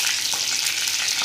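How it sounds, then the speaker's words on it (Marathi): Curry leaves, mustard seeds and cumin hit hot oil in a kadhai, giving a loud, dense, continuous sizzle for a brief moment. "कढीपत्त्याची फोडणी देऊन देते।"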